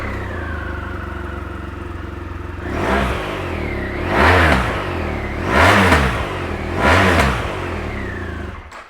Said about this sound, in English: That big 1200 fired up for you.